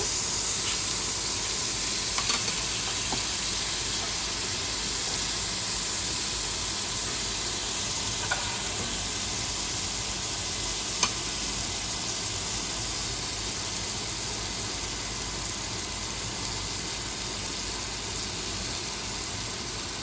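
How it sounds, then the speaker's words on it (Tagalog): Butter melts in a hot pan at the start of a butter shrimp dish, giving a steady, close hiss and sizzle that carries evenly throughout with no talking. "I-melt lang natin ating butter"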